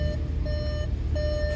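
Warning chime in a 2020 VW Atlas Cross Sport 3.6 SEL 4Motion with the ignition on: a steady electronic tone repeating in long pulses, three clear beeps over a low cabin hum, no talking.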